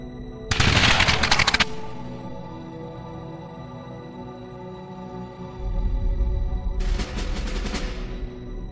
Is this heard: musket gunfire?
yes